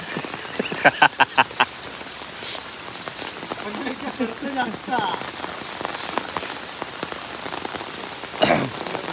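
Steady rain falls in rural Konkan, a dense hiss of drops pattering on surfaces throughout, with brief bursts of voices and a few sharper knocks rising over it.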